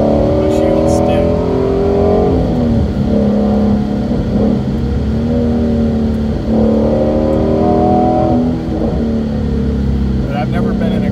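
Steady engine drone and tyre roar from inside a car on Michelin Pilot Sport Cup 2 tyres, with the engine note rising and falling through gear changes, loud and continuous beneath voices talking in the cabin.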